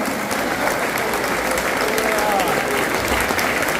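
A church congregation applauds together in praise, a dense, steady wash of many hands clapping close and loud, continuing without a break and with no voices over it.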